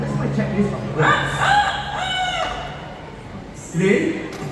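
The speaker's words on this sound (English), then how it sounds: "A chicken here in the park, a rooster." Rooster crowing at a bird park, a drawn-out harmonic cock-a-doodle-doo call followed by a shorter second call, close and clear, with people speaking faintly around it.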